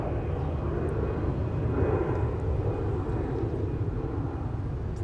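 An Airbus A320 airliner departing at MSP airport: a loud, steady low jet roar rumbling continuously with a faint high whine above it, heard alone without talk.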